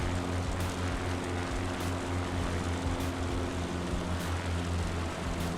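In Microsoft Flight Simulator 2020, a propeller aircraft makes a flyby near Mount Rushmore, a steady droning engine hum with a low throbbing tone and faint periodic swells, fairly loud and continuous without speech.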